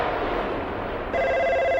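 Telephone rings in a film scene, a bright electronic ringing tone that cuts in abruptly after a stretch of low background noise and holds steady to the end.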